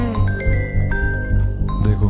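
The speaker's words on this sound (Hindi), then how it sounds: "देखो फोन तो आ गया उसका।" A phone rings inside a home with a bright, electronic jingle of tonal notes over a loud, dense music bed, continuing for about two seconds.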